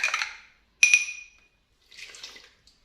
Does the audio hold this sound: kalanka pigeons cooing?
no